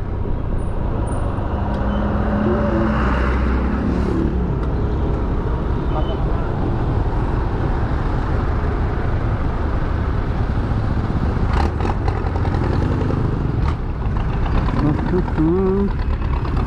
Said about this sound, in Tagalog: Ito na yung umpisa ng traffic dito sa Sikat.